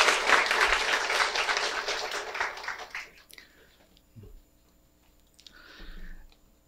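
An audience at a staff town hall meeting applauds lecturer Ju Hye-jin, with loud dense clapping that fades out after about three seconds, then quiet with a few faint scattered sounds.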